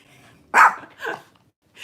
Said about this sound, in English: this is the most she's barked since we moved here